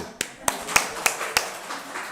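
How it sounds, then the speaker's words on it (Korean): Five sharp hand claps at a steady, even pace, fairly close, during a Sunday church service, with a quiet gap after the last one. "우리 하유리에게 박수."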